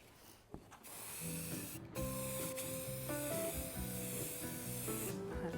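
Enamel spray paint hissing steadily from an aerosol can during a black finish on dollar-store decor, with a short tap near the start, then a continuous close spray under tonal background music.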